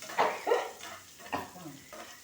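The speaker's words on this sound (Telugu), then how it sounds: "ఈ పచ్చిమిర్చి ఇది కొంచెం వేచుదాం. పటపటపటపళ్ళు ఆడుతున్నది." Green chillies fry in hot oil in a pan, giving a few sharp, close crackles and pops over a low sizzle.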